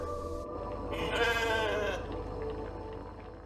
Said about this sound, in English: Welcome to our newest crew member, Molly the sheep.